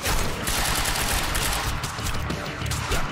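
Dense, continuous gunfire in the video game Quantum Break, sustained bursts striking around the player at close range with no let-up.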